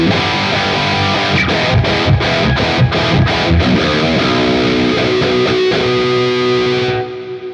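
Ernie Ball Music Man JP15 electric guitar played through an Axe-FX III on a JPIIC preset, a loud distorted tone with rhythmic chugging stabs and then sustained chords drenched in reverb and delay, ringing out alone before fading at the end.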